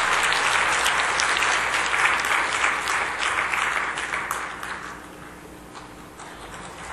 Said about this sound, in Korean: 우리 다시 한번 큰 박수로 축복해 주시기 바랍니다